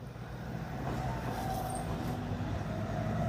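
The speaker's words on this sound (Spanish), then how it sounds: "Oigan cómo suena el turbo." A Nissan Frontier NP300 pickup climbs a hill in Morazán, El Salvador, its engine and turbo giving a continuous low roar that builds steadily, with a faint high whine rising above it.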